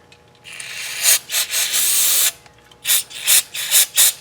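A socket wrench ratchets on the steering parts of a lawn tractor with sector and pinion gears and drag links: a steady burst of close clicking, then a short pause, then several quick separate bursts of ratcheting.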